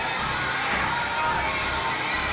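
The Amazons' war cry in Fate/Grand Order, a huge throng of shrill voices shouting in unison, loud and continuous with a slight surge midway.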